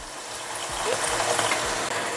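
Half a cup of water pours into a kadai paneer tomato gravy in a pan, a soft steady hiss and splash that builds slightly, close and without talk.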